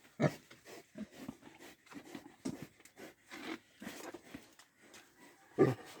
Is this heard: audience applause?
no